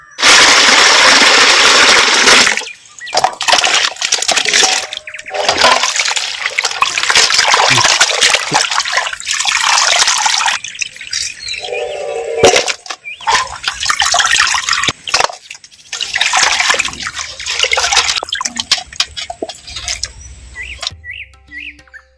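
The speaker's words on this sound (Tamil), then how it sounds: "இனிமேல் வந்து தண்ணியில் வந்து அலசிக்கிறான்" Goat head meat rinsed in water village-style, with loud, close splashing, sloshing and trickling in repeated bursts separated by brief quiet pauses.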